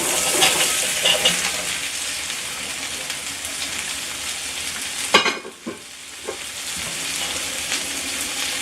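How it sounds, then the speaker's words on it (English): Vegetables for beef stew hit a hot pan and sizzle steadily and loudly, then a clatter and a brief dip as they are tipped in, after which the frying hiss resumes. "Next, I'm going to carefully add all of my veggies to the pan."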